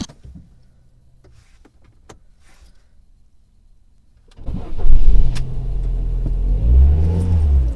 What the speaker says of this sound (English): So let's try to start my car.